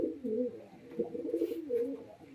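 Soft, throaty cooing from a male and female pigeon pair repeats in low rolling phrases, close by, with no talking over it.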